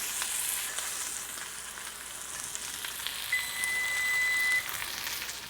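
Deer heart searing in a pan on a burner set to high heat, a steady close crackling sizzle with scattered pops and spatters, heard alone with no talk.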